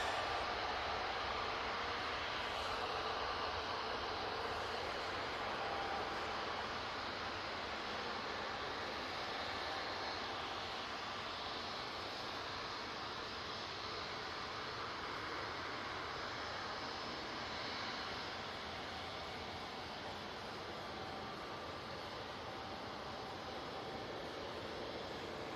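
A jet airliner taking off for Ibiza makes a broad, continuous roar, loud and steady across the whole stretch with no voices over it.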